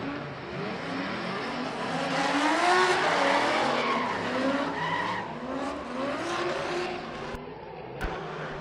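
A BMW E46 race car drifts at a speedway, its tires squealing in a long, loud, wavering screech over engine drone, fading near the end.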